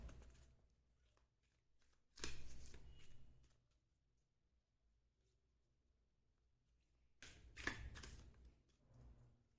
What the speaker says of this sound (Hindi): मैं इतने कार्ड शफल करती हूँ